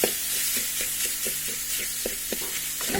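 Wood apple pickle sizzles in a hot pan as red chili powder and salt are stirred in, giving a steady close frying hiss broken by soft scraping stir strokes, with no talking.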